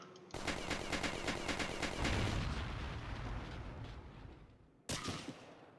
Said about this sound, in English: this is the first time I ever fire this gun in this game, this modded version